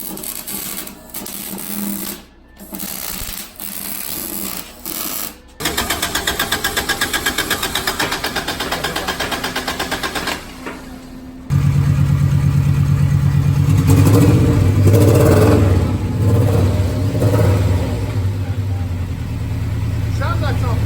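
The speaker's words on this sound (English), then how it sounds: "Sounds like it's on four cylinders" A turbocharged B18 four-cylinder engine in a VW Beetle idles, then revs in repeated buzzing bursts, growing louder and rougher toward the end, recorded close up.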